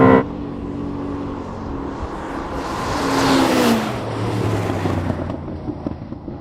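A Ferrari SF90 XX or a Koenigsegg Regera launches hard in a drag race with heavy wheelspin. The engine roar swells near the middle and then eases off into a fading drone.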